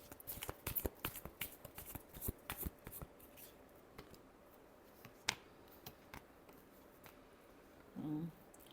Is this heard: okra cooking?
no